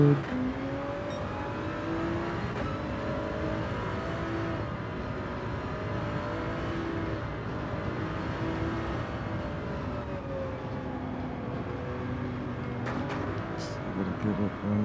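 A race car engine in Gran Turismo 7 revs and winds through rising and falling gear pitches, with repeated shift sweeps over a steady engine drone while a person talks throughout.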